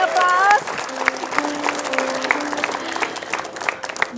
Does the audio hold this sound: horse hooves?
no